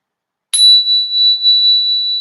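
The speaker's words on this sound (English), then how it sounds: "as you hear the sound of the bell" A single meditation bell is struck once after silence, giving a bright clear ring that holds a steady pure tone and slowly sustains without fading out, with no talking.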